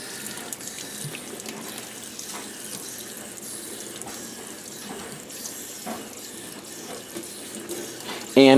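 Running tap water rinses out ice-dyed tie dye fabric in a steady, continuous splashing stream that swells louder at the very end.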